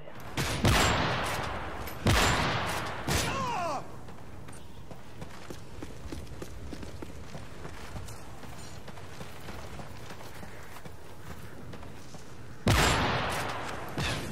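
Bursts of gunfire from a 1v1 shooter match crack out loud and close in three rapid volleys at the start, then fade to scuffling footsteps and low movement before a final burst near the end.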